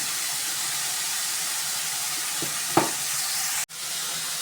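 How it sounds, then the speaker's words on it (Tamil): Pongal bubbles and steams in a pot with a constant loud hiss. A couple of short scrapes from a stirring spoon break through near the end, with no speech. "பொங்கலை நல்லா கலந்து விட்டுட்டே இருக்கணும்"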